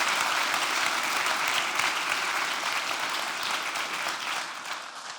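An audience at a lecture gives warm applause, a dense, steady wash of clapping from many hands that holds at an even level and fades slightly toward the end.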